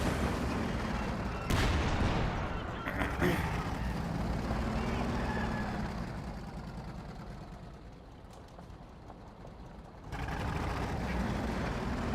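Mortar fire in the strategy game Company of Heroes 2, with heavy booming blasts and rumbling explosions over continuous battlefield noise, louder at the start and end.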